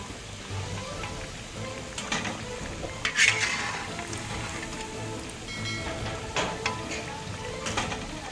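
Chicken shami kebabs fry in hot oil and are lifted out of the pan. A soft, continuous sizzle is broken by occasional scraping and clinking bursts as the pieces are turned and removed.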